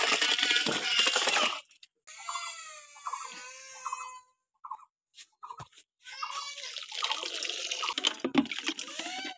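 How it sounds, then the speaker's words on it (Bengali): Cold running water pours over chhana curd cheese in a cloth as it is rinsed, coming in bursts that stop and start, with a high wailing voice, like a child crying, heard over it. "এবার ঠান্ডা জল দিয়ে ধুয়ে নিব।"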